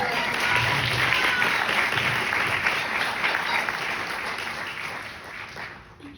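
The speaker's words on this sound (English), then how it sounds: "So everybody give Destino a clap." Sustained applause from an audience at a Prayer y Cultura gathering, a dense even wash of clapping that holds steady and slowly tapers near the end, heard from a moderate distance.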